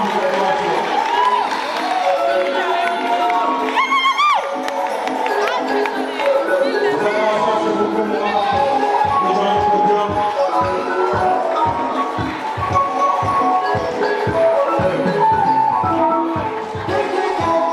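Crowd at a Hema ethnic group presentation during a university cultural exhibition, with loud, steady cheering, shouting and rhythmic noise filling the whole stretch, voices mixed throughout.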